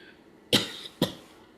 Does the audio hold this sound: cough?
yes